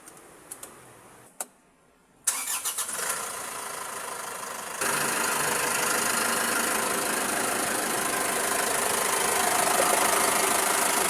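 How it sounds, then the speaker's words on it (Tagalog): Isuzu Traviz engine idling after a cold start, a steady mid-pitched hum holding even and close from about five seconds on, preceded by a few brief clicks and a short starter burst. "So observe yung andar ng makina."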